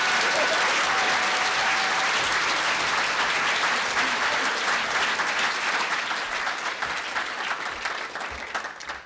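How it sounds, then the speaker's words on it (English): A theater audience at the 2015 Ignatz Awards ceremony for comics gives a big round of applause: dense, sustained clapping that holds steady for several seconds, then begins to thin and fade toward the end. "So everyone, big round of applause for Chip Mosier."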